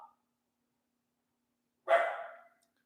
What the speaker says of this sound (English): I swear this dog.